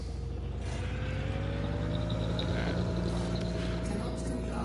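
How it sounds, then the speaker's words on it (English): The Vulture spaceship's engines in Elite Dangerous produce a loud, continuous low rumble and drone with layered humming tones, steady throughout with a faint whooshing edge. "I read about the engines of the Vulture, and they're like, yeah, those things make a terrible noise."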